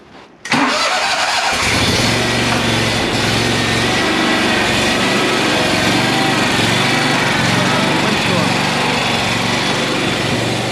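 A Scag Aerstorm zero-turn mower engine starts up with a quick burst, then runs loud and steady with the blades engaged, its droning roar filling the clip.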